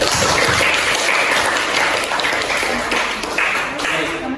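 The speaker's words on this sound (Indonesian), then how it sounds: "Tepuk tangan untuk Mbak Nabila dan Kanaya." A crowd claps steadily in sustained applause at an Indonesian vocational school presentation, fairly loud and close, with a voice faintly mixed in.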